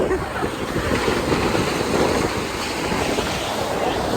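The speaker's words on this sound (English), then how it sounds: "But now it's summer, and in the summer the ocean is quiet." Calm summer ocean surf on the Peruvian coast, a steady broadband wash of waves rolling in with some wind noise on the microphone, continuous and fairly loud with no talking.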